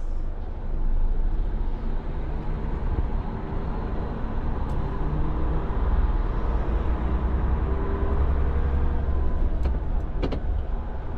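A large trailer truck drives with a steady, loud engine and road rumble from inside the cab, and the engine note shifts with a gear change. A few faint clicks sit near the end, and no one speaks.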